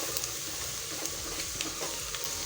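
Spices stirred in a pot while cooking pilau, a soft steady sizzle and scraping heard close up with no talking.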